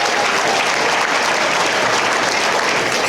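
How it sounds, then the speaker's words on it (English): Members of the Bronze Shields organization applaud themselves at an award dinner, loud, dense clapping from a close crowd, sustained evenly throughout. "give yourselves a round of applause"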